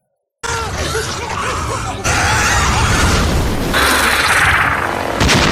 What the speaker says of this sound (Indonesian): Saat ular itu menerkam Linky, tentara melemparkan bom hingga meledak di mulut ular